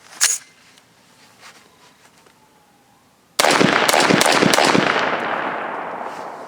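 A .450 SMC pistol firing hollow-point rounds gives one sharp crack, then a loud, rapid string of shots after a pause, with a lingering echo.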